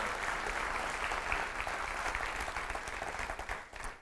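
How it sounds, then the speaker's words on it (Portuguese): A church congregation claps for the Lord during a sermon, a dense, even wash of applause that holds steady and then thins slightly near the end. "Aplauda o Senhor"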